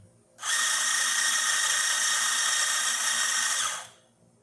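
A Quamar M80 coffee grinder, just repaired, whirs at a high pitch in one steady burst of about three and a half seconds, with a clean start and stop.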